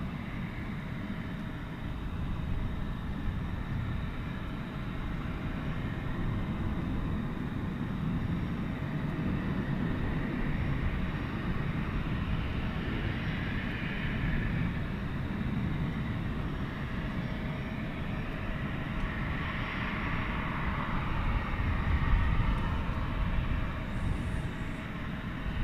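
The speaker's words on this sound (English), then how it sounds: "you can hear those big planes roaring off" Big jets taking off at DFW Airport at night, a distant, sustained low roar rolling on steadily and swelling slightly toward the end.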